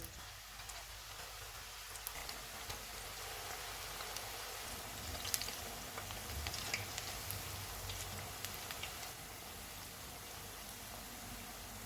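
Onion pakoras sizzle and crackle steadily in hot oil over a low-to-medium flame, a soft continuous hiss with scattered light pops throughout.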